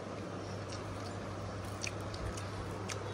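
Soft chewing of fried bitter gourd mixed with mashed vegetables, faint wet bites and squishes close to the mic over a steady background hum, with no talk.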